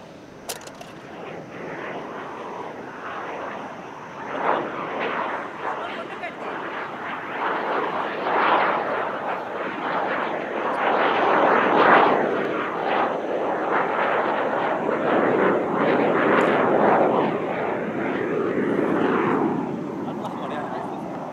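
MB-339 jet aircraft flying at the Dubai Airshow, a loud continuous roar that swells and lingers overhead, with a voice speaking over it.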